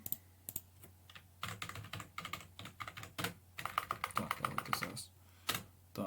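Someone types code on a computer keyboard, a steady run of close, crisp key clicks in irregular bursts with brief pauses, no voice heard.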